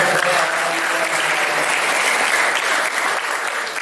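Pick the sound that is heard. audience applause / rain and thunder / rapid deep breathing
audience applause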